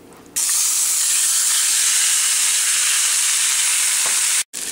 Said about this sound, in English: Add these marinated vegetables and paneer and let it saute for 10 to 15 minutes at medium heat.